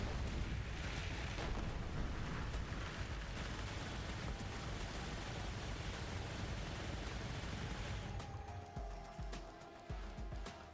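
Gunfire from the game Borderlands: a dense, continuous roar of shots and blasts at low level that runs for about eight seconds and then breaks off into a few scattered, quieter bursts.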